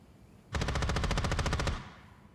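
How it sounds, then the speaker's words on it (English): Rapid automatic video game gunfire as two players shoot at each other in a final standoff: one loud, steady burst of evenly spaced shots lasting just over a second, then fading out, with no voices. "both of them start shooting at each other."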